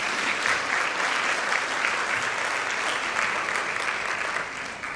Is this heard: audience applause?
yes